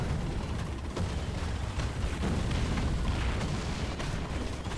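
Heavy incoming fire in War Thunder around a Japanese Type 4 Ho-Ro self-propelled gun, a dense continuous roar of explosions and booms with scattered sharp bursts, loud and steady throughout with no talk.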